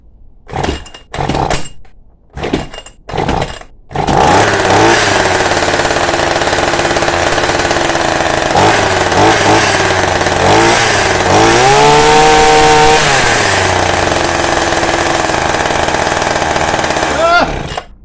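A Hyundai petrol hedge trimmer, fitted with a home-made fix, is pulled several times in quick bursts, then catches and runs loudly and steadily, its revs rising and falling with the throttle.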